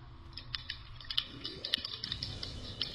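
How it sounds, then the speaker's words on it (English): Computer keyboard keys are clicked rapidly during a Left 4 Dead video game session, a steady stream of quick, light, near taps with a few sharper clicks standing out, and no voices. "All you hear is just the clicking going on, it's so funny. It's a button bashing."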